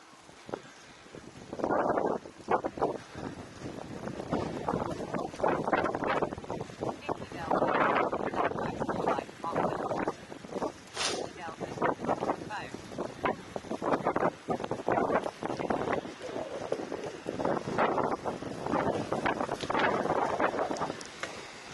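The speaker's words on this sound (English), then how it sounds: "It's only in certain directions that it gets really windy for me" Wind buffets the microphone while riding a bike outdoors, loud and gusty, with low rumbling bursts swelling and fading every second or two throughout, steady and unbroken.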